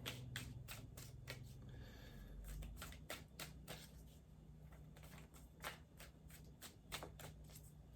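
Tarot cards shuffled by hand in quick repeated riffles and snapping flicks, close and crisp, with a brief pause partway through and no talking.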